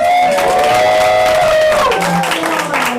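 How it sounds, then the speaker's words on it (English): A comedy roast battle crowd applauds and cheers loudly and continuously, with shouts and whoops rising over the clapping. "give them another round of applause"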